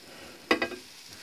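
Turkey sliders flipped in a Ninja air fryer basket give a brief burst of sizzling with a couple of quick scraping hits, then settle back to a faint background hiss.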